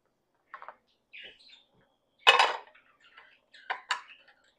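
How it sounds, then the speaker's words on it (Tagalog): Dishes and pots being washed clatter in scattered bursts, with sharp ceramic and metal clinks and one louder clang in the middle, set against quiet pauses. "Ang dami kong hugasan."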